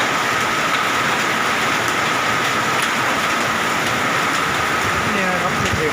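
Hail and heavy rain pound down during a violent hailstorm in Kham Cha-i, Mukdahan, a dense, steady roar of impacts with wind, continuous and loud throughout.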